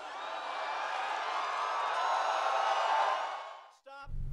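A large crowd roaring in approval at a presidential rally, a dense sustained wall of cheers and whoops that swells and then cuts off abruptly.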